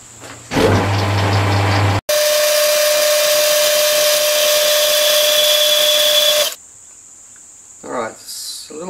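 A metal lathe cuts a piston ring groove for a Stuart Turner No. 8 mill engine, giving a loud, steady high-pitched whine with a hissing cut that runs several seconds and then stops.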